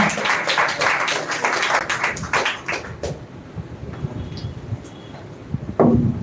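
Audience at a speech competition grand finale claps for a performer, brisk, close clapping for about three seconds that then thins out into faint room noise.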